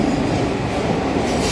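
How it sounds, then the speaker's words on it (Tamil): A train rumbles past close by, a loud steady roar of wheels on rails with faint squealing. "இந்த பக்கம் ட்ரெயின் போகுது பாரு"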